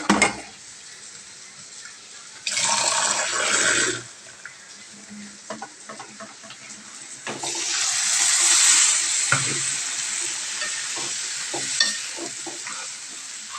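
Water poured into a tomato, ginger, garlic and onion spice paste while cooking ghugni, giving two soft bursts of hissing sizzle against quiet stirring and faint clinks, with no talk.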